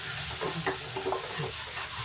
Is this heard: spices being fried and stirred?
yes